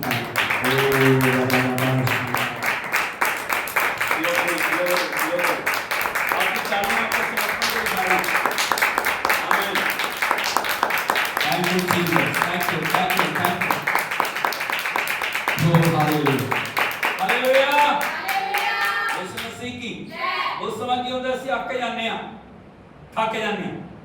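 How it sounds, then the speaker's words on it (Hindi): A church congregation claps in rhythm in Jesus' name, steady claps running under loud singing and voices that continue throughout. "यीशु के नाम में ताली बजाओगे प्रभु के नाम में"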